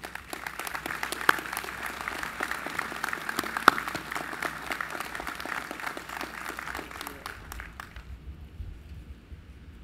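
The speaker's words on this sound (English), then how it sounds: "I want to invite you to welcome her with a round of applause at this time" At a candlelight vigil, the audience welcomes a guest speaker with applause, a moderate, even crowd of hands clapping, with a few sharper nearby claps, that fades out near the end into quiet room tone.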